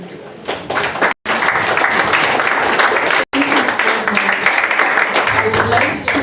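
Steady applause from a school audience, a dense continuous wash of clapping that fills the room for several seconds, broken by two brief cut-outs.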